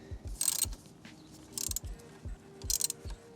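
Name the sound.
8mm nut being fitted on Yamaha R7 fairing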